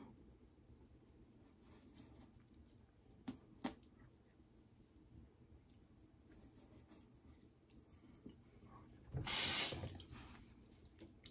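Cold water from a tap runs into a sink in a barbershop after a shave, a short splashing burst of about one second near the end, following a long, quiet stretch with faint clicks.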